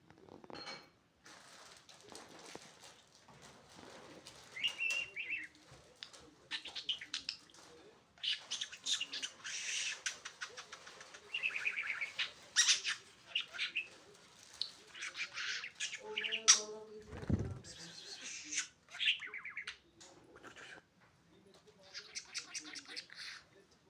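A pet budgerigar chirps and warbles in scattered bursts, interrupted by people talking nearby and a brief mechanical clatter.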